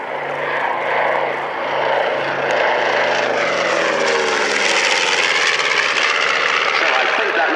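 Twin Wright Cyclone radial engines of a North American B-25 Mitchell bomber drone loudly and steadily as the plane makes a pass, the roar swelling and shifting in pitch throughout, with faint voices underneath.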